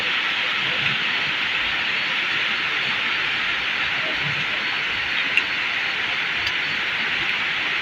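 Steady, dense hiss of rain pouring continuously, loud and close, heard from a restaurant in Parangbasak, Basilan, with no voices.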